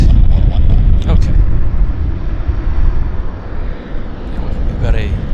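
A steady, loud low-frequency roar of an airplane engine as the aircraft climbs out after takeoff at Vancouver International Airport, heard from a distance under outdoor wind noise, with brief voices chattering nearby.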